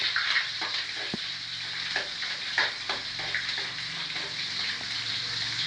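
Onions sauté in a hot pan for adobong string beans, giving a soft, steady sizzle with occasional light stirring scrapes and taps, fairly quiet and continuous.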